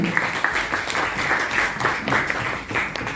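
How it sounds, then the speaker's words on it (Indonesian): Applause in a school classroom, a modest group of hands clapping in uneven bursts, moderately loud and fairly close. "Tepuk tangan untuk Rofi dan Molly."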